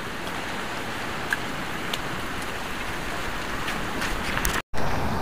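Rain falls steadily at a campsite beside the beach, a dense close patter with occasional louder drops, broken by a brief dropout near the end.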